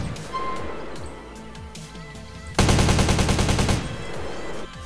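Submachine gun fire from Call of Duty Black Ops, a loud, dense automatic burst lasting just over a second that starts abruptly mid-clip, with quieter game sounds before and after it.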